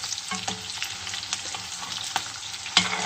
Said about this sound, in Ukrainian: А зараз ми пасируємо на тому жирові цибульку.